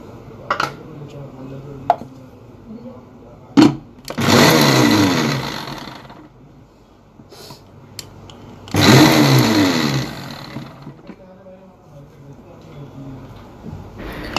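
A mixer grinder blending onion and yogurt whirs loudly in two bursts of several seconds each, with clinks and taps before and between, and a person speaking at times.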